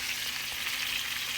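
Chicken thighs fry in butter in a pan at medium-high heat, giving a loud, steady, close sizzle with no talk.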